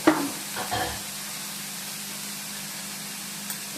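Onions sautéing in a pan for idli bonda onion fry, a couple of brief stirring scrapes at the start, then a steady, even sizzle with a low hum underneath.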